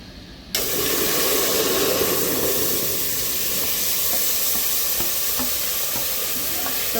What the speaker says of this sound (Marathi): आता आपण मसाला चांगला तेल सुटेपर्यंत भाजून घेऊयात.